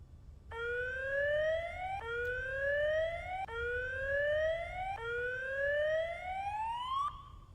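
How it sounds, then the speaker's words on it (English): A rising electronic alarm from the video game Mechanica sweeps upward in pitch about five times in a steady repeating cycle, loud and alone with no talk. "If it is less than 10, sound the alarm."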